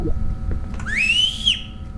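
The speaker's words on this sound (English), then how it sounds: "Whistle, whistle." A whistle in a backrooms video game rises into a sustained, slightly wavering high tone for about half a second, then cuts off over a low rumbling game background.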